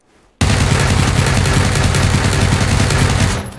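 A full magazine emptied in PUBG, a rapid, unbroken burst of automatic gunfire that starts abruptly after a brief quiet and rattles on loudly and steadily for about three seconds before cutting off.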